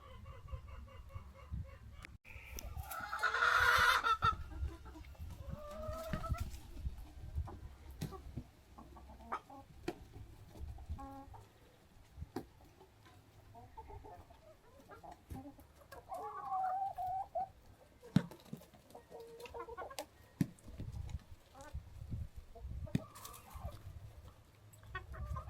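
Backyard chickens cluck and squawk near and far, with one loud burst early on, while a helper cuts up cucumber to feed them.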